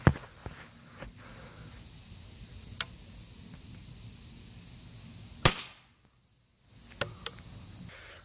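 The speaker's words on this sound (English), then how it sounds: "Alright, I'm just gonna shoot." Airgun shots outdoors across grassy ground, a handful of sharp isolated cracks spaced a few seconds apart over a low steady background hiss, with one brief drop to near silence.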